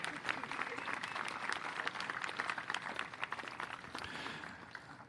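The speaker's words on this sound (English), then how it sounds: "Give him a round of applause." Audience applause at a Peoria municipal band concert, a steady wash of many hands clapping that holds for the full stretch and tapers slightly toward the end.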